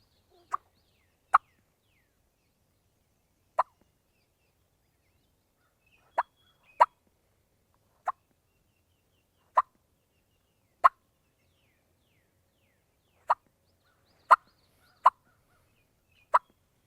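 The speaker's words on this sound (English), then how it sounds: "That's just that light clucking, trying to mimic a hen that is looking for another turkey." Light clucking of a wild turkey hen, about a dozen short, sharp, isolated clucks spaced irregularly over quiet, each sounding near and crisp, with no voices.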